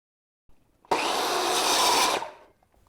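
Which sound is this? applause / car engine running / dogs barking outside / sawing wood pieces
sawing wood pieces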